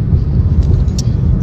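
Steady low road rumble fills the cabin of a moving car on the way to a supermarket, a continuous engine and tyre drone with no talking.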